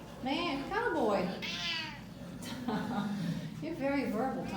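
A domestic cat meows repeatedly at close range, several drawn-out rising and falling calls spread across the clip, with a person's voice nearby.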